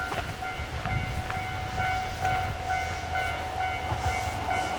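A single-car train runs past on the line near Kushiro, Hokkaido, a close, steady rumble with rhythmic clatter from the wheels and faint tonal ringing over it.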